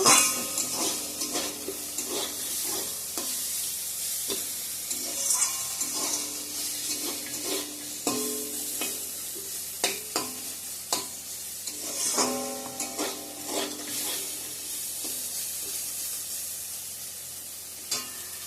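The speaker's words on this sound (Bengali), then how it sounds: "ঢেঁকি শাক ভাজাটা হয়ে গেছে নামিয়ে নেব" Dhenki shak fiddlehead fern greens sizzle and crackle in hot oil, stirred in a pan with scraping and clinks of a utensil, steady frying throughout.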